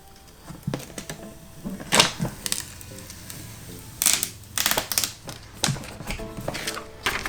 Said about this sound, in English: Now take the transfer tape off.